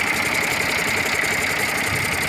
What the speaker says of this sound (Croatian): Traktor ide odlično